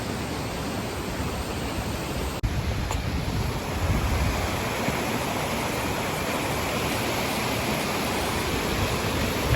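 Steady roar of a waterfall, a constant broadband rush of falling water that fills the whole clip at close range, with one brief sharp knock early on and no talking.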